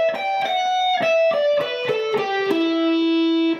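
An electric guitar plays a fast, smooth pentatonic lick, with a quick run of picked notes stepping downward and a final note held and sustained, close and alone.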